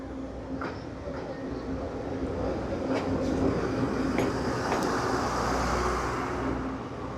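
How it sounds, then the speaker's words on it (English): A train approaches on a railway in Taiwan, rumbling steadily nearby with a low continuous roar and faint rattling, building slightly over several seconds amid outdoor background noise. "now we got the train coming."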